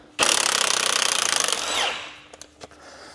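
On a Renault Trafic brake job, an impact gun zips loose an 18mm caliper carrier bolt in one loud, close, rattling burst of about a second and a half, then winds down, followed by a few small metallic knocks.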